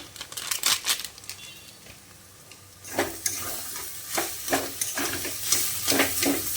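Stuffing for pointed gourd dolma frying in a pan with a little sugar and garam masala, a close sizzle with rhythmic scraping stirs that grow louder and faster halfway through, no talking.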